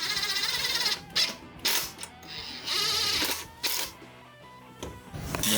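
A ratchet tightens the rear brake caliper on a Rascal Lite mini bike kit, giving several bursts of loud clicking ratchet strokes broken by brief pauses, up close with metallic creaks in between.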